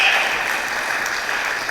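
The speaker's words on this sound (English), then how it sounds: "Give them a round of applause." A conference audience at a Climate Week event in New York claps in a brief, dense burst of applause that fades slightly toward the end.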